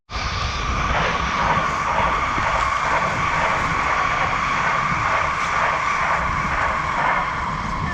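An electric unicycle climbing up over rocks outdoors, a steady loud whining motor and tire-scrub roar that holds continuously without pause.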